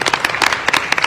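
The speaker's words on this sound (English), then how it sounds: "Applause, please." Brief burst of audience applause at a Queens community honoree celebration, with a crowd clapping briskly in close, uneven bursts for about a second.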